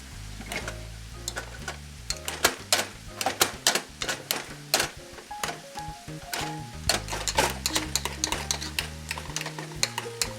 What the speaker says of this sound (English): now we can finish everything off by mashing our potatoes